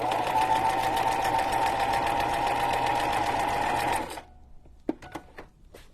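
A sewing machine runs steadily for about four seconds, stitching a paper junk journal pocket with a fast, even whir, then stops, followed by a few brief clicks and handling sounds, close up.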